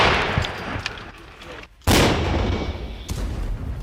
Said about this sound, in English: Tank keeps shooting at enemy positions. Meanwhile, Russian Grads are still sending missiles hoping to destroy Ukrainian tank.